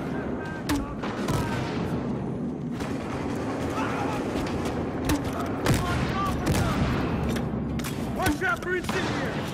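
Loud, continuous gunfire and heavy bursts from Battlefield combat, near and relentless, with players shouting over the shooting.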